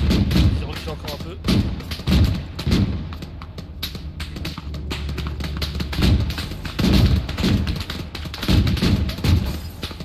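A war tank in a video game fires repeatedly, heavy booming shots and thuds landing in an irregular rhythm, loud and close, with voices talking between and over the blasts.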